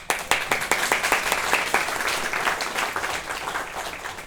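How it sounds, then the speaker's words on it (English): Steady applause from a group, many hands clapping in a dense, continuous patter that holds without a break. "Let's clap."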